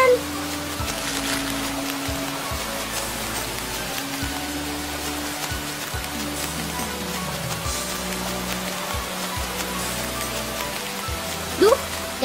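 Rain falling steadily outdoors, a continuous patter on surfaces with low background tones beneath and a brief sharp sound near the end.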